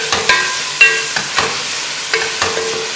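Onions frying in a pan make a close, steady sizzle, punctuated by several sharp spatula scrapes and knocks at an irregular rhythm.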